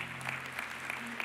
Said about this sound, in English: Can we clap our hands all over the room today?